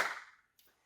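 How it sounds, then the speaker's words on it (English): Two sharp hand claps, a crisp loud one followed about half a second later by a softer one, heard alone in a quiet room. "and you'll clap 2 times."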